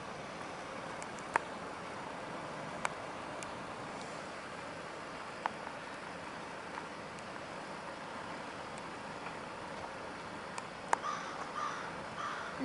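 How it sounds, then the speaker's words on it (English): Crows caw sporadically in the distance over a steady wash of outdoor wind and surf noise at Bay of St. Lawrence harbour, with a few sharp calls standing out. "you can hear the birds"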